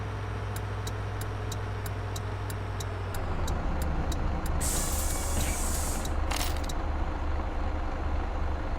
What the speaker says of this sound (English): That is the parking brake